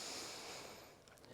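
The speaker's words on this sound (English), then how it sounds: "Take a full breath in, please." A long, deep inhale during slow-paced Prana Vidya breathwork, a steady airy rush lasting over a second that fades slightly toward the end, quiet and close with no talking.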